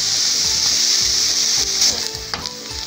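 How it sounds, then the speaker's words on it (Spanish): Onion frying in a pan sizzles loudly and close, with stirring scrapes and clinks of a utensil against the pan over a constant hiss. "aquí vamos a freír bien esta cebolla"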